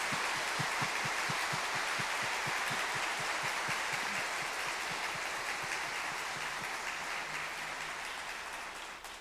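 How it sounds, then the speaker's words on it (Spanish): A church congregation applauds in a cathedral during a Sunday Mass, a steady, fairly loud wash of clapping that fills the room for the whole stretch and fades slightly at the end, with no talk over it. "vamos a darles un aplauso, acogiéndolos como amigos en esta comunidad"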